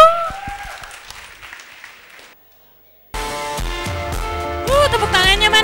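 An audience at a video-editing workshop applauds for a couple of seconds, the clapping fading out into a moment of silence before music starts up.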